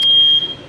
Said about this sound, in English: now the fire or the alarm thing went off